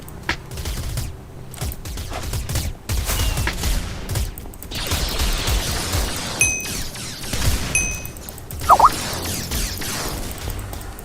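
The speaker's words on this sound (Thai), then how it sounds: "ขอยิงก่อน" Blaster gunfire in a Minecraft Star Wars minigame comes as a series of irregular, sharp shots and bursts over about ten seconds, with a few electronic tones and short squeaks mixed in.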